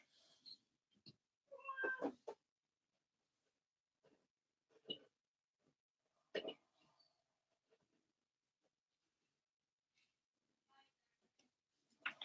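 Several cats meow and wail intermittently, some cries close and loud, others faint, separated by long quiet gaps over a dozen seconds.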